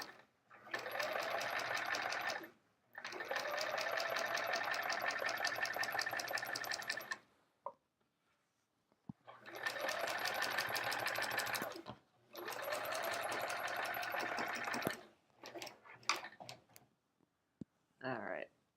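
A sewing machine quilting with metallic thread runs in long steady bursts of rapid stitching, stopping and starting several times, with faint talk in the pauses.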